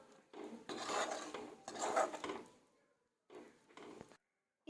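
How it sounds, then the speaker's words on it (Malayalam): Green peas get stirred and scraped around a cooking pan for a paneer mutter curry, giving a few bursts of close utensil-on-pan rubbing with short pauses between them. "ഇനി ഒന്ന് മിക്സ് ചെയ്ത് കൊടുക്കാം"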